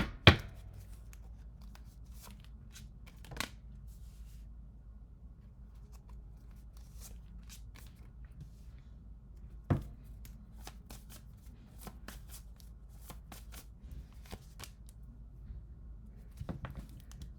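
Soft, close riffling and patting of a tarot deck being shuffled, with a few sharper card snaps scattered through a quiet, steady background.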